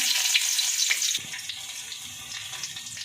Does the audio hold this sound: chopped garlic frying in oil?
yes